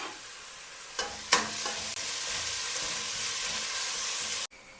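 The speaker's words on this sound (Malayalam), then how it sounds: "നമ്മൾ ഇതിലേക്ക് ചേർത്ത് ഇതൊന്ന് നന്നായിട്ടൊന്ന് വഴന്ന് വരെ നന്നായിട്ടൊന്ന് വഴറ്റിയെടുക്കാം" A paste of ginger, garlic and green chilli fries in a pan with a steady, close sizzle. A couple of sharp stirring scrapes and clinks come early, and a brief gap appears near the end, with no voices.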